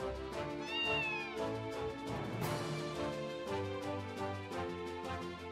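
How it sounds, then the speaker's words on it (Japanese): A cat in the role-playing game Zero no Kiseki gives several drawn-out meows and a wavering caterwaul, clear and close, set over game background music without any speech. "ね、猫。"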